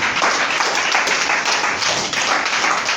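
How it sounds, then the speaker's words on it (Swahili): A church congregation at a Christmas service in Dar es Salaam, Tanzania, applauding loudly and steadily, a dense wash of many hands clapping together close by. "Hebu tupigie Bwana makofi makubwa."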